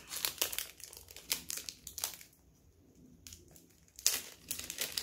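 Gift wrapping paper on a Christmas present is crumpled and crinkled during a careful unwrapping, in several close bursts of rustling with a brief quieter pause in the middle.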